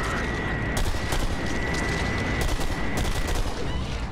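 In the shooter BlackSite, a machine gun fires continuously in a loud, rattling stream with sharp bursts over a constant roar, never letting up.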